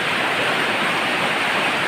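Heavy rain pours through a leaking house roof as a loud, dense, unbroken rush of falling water, steady from start to end with no voices.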